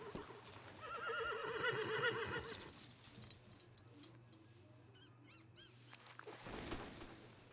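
A horse in Red Dead Redemption 2 lets out a loud, quavering neigh lasting about two seconds, followed by a quieter stretch of soft hoof clops and a brief snort near the end.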